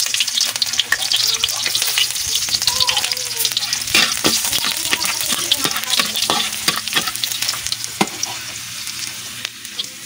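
Onion and garlic fry in hot cooking oil in a pan, a dense, continuous sizzle with frequent scraping stirs and clicks throughout.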